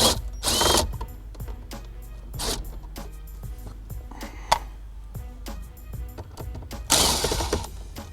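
Phillips head screws come out of the stereo trim of a 2014 Honda Accord, with close, quiet clicks, ratcheting and small plastic knocks scattered irregularly over several seconds.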